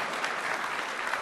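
Audience applause at a Microsoft Build 2014 keynote, a dense steady wash of clapping from a large crowd filling the hall throughout.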